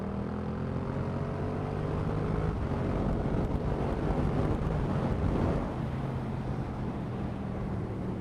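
A motorcycle ridden through town gives a steady droning engine note under heavy rushing wind noise, continuous and close throughout with slight pitch shifts as speed changes.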